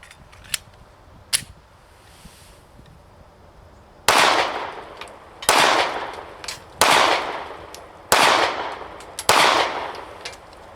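Five Glock 43x pistol shots fired at a target, loud sharp cracks spaced about a second apart with brief ringing tails, preceded by a couple of fainter distant pops.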